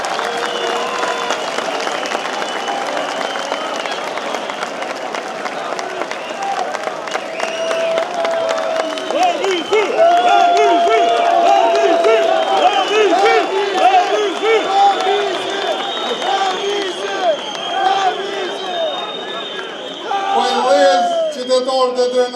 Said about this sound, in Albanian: tani e presim me duartrokitje të madhe në skenë kryetarin e komunës së Skënderajt të Drenasit